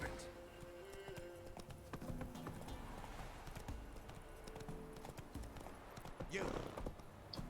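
Horse hooves clip-clop steadily in The Witcher 3, a quick rhythmic trot under a player talking, with a horse snort or whinny near the end.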